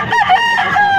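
A rooster crows loudly and close, its long wavering call filling the moment, with hens faintly clucking underneath.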